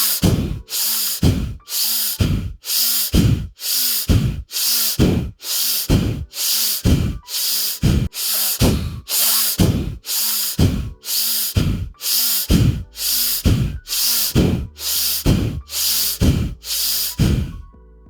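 Fast, forceful yoga breathing in a steady rhythm, about sixteen sharp, loud, close breaths through the nose, each a short hissing burst followed by a brief silence.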